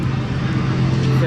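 Swarm roller coaster at Thorpe Park rushing past, a steady loud roar with a strong low rumble sustained throughout, with people talking over it.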